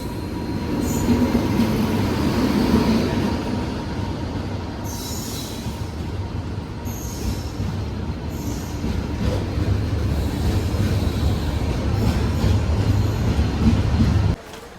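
Venad Express, hauled by a P7 locomotive, passing through Ernakulam Town station, a loud continuous rumble of rolling wagons with rail clatter and occasional high wheel squeals, heard close throughout.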